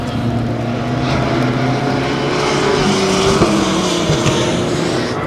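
Race cars pass in heavy rain at the Nürburgring during a VLN endurance race, a loud, continuous engine roar and droning pitch mixed with hissing spray, swelling briefly mid-way as cars go by.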